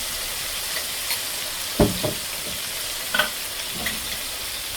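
Ginger frying in a pan for a catfish and calabash curry, a quiet steady sizzle with a few short scraping stirs.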